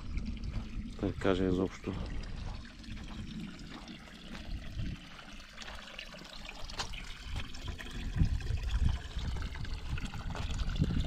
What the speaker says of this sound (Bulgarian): постоянно се тече една и съща вода